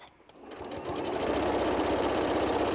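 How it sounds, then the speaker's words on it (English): A sewing machine top stitches an adult bib, on a borrowed machine with heavier thread, starting after a brief quiet moment and then running at a steady, loud, even whir close by with no talk. "I'm sewing on a machine that is not mine."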